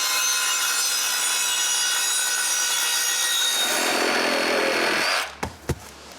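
Wood is cut continuously for a firewood shed, a steady, loud rasp that stops abruptly after about five seconds, followed by two quick knocks.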